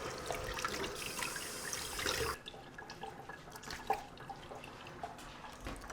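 Squid tubes are washed under running tap water, with a steady gush that cuts off partway and then quieter drips and handling noises in the sink.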